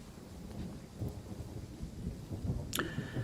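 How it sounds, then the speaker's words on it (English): A thunderstorm in Train Sim World 4 rumbles low and continuous under light rain, with a sharp crack near the end. "we'll watch the lightning storm as it's going around on Sunday"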